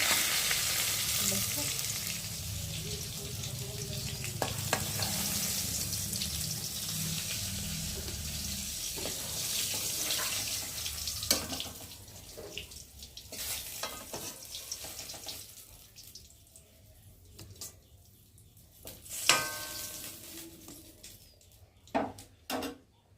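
Pointed gourd (potol) fries in oil in a pan with a loud, steady sizzle that fades over the second half into sparse crackles, scrapes and clinks of the pieces being lifted out.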